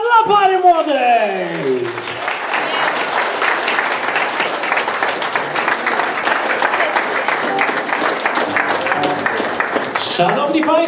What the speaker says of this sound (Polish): Wielkie brawa dla pary młodej!